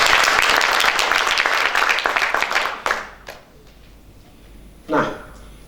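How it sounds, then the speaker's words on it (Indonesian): Audience in a church gives a burst of dense clapping that runs for about three seconds and then stops abruptly, followed by quiet room tone and a brief voice. "tepuk tangan buat Tuhan kita yang luar biasa"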